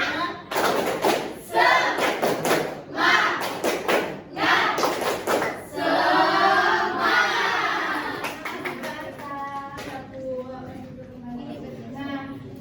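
Children in a classroom do a rhythmic clapping chant, with bursts of hand claps and thumps under loud group voices, then shouting that gives way to a single adult voice talking near the end.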